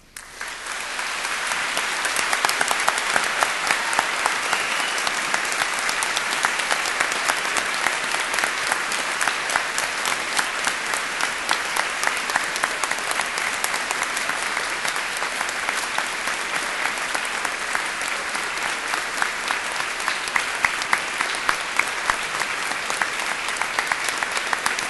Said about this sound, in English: say to them a special and public thank you by giving them all an enthusiastic round of applause